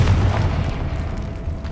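Hogwarts Legacy's Confringo blasting spell goes off as a deep, heavy boom with a rumbling low-end body that rolls on and decays slowly, close and fairly loud, with no voices over it.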